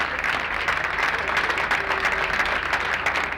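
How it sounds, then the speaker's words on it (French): An audience at a Tabou Combo tribute claps in a loud, dense burst, with scattered sharper claps and crowd noise throughout. "Allez, applaudissez."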